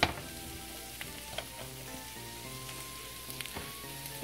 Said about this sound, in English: I'm gonna add my cream